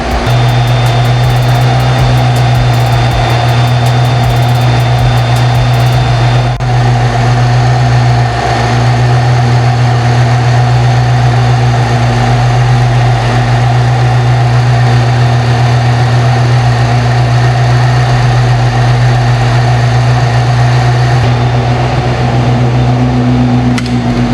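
Car engine fitted with a heat-wrapped header, running steadily at idle with a loud, constant droning hum that persists unchanged throughout, no speech over it.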